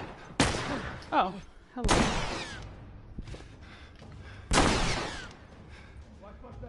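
Three loud, sharp gunshots in The Last of Us, fired several seconds apart, each with a brief ringing tail over a low game background, and a short spoken exclamation between them.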